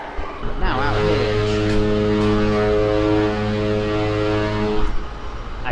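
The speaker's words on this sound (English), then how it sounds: "The foghorn's going off every 5 minutes." A ship's foghorn sounds in thick fog at Stavanger, one long, loud, steady harmonic blast lasting several seconds before cutting off, with no talk.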